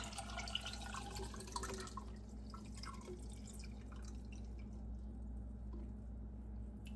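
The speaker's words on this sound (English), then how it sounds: "Just stir that together good and pour it over my eggs until they're all submersed." Water mixed with pickling lime is poured over eggs in a container, giving a soft, close trickle with dripping and splashing that fades after a few seconds. No one speaks.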